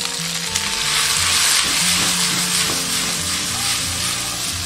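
Onion and wood ear mushrooms stir-fry in hot oil in a wok, with a loud continuous sizzle and repeated spatula scrapes and tosses, and no one speaking.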